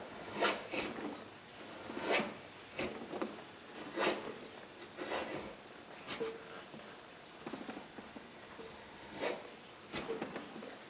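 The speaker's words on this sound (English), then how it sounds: "the wood's going to chip off this way" Hand tool carving wood for a bear claw necklace, with repeated short scraping, rasping strokes as small chips come away, close and fairly quiet, in an irregular rhythm.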